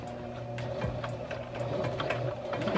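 A sewing machine runs steadily as it stitches a fabric tube slid over the free arm, with a constant motor hum and a rapid needle clatter.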